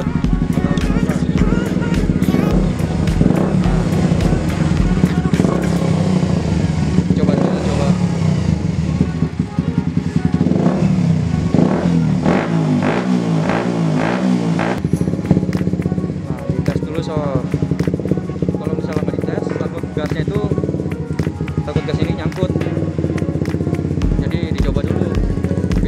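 A Suzuki GSX150R motorcycle fitted with a KTC quick throttle revs repeatedly, its mid-pitched engine rising and falling between idle and sharp blips, loud and close, with talk underneath.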